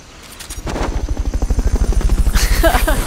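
Helicopter in Metal Gear Solid: Peace Walker, its rotor building into a loud, steady rapid thudding chop that holds close and strong, with a brief electronic tone near the end.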